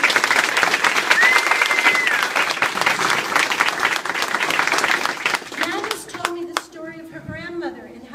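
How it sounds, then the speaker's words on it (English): Audience applause at a curator's talk on immigration and cultural memory, a dense sustained clapping that fills most of the clip before thinning out, with a voice and a few tonal sounds emerging near the end. "So a round of applause."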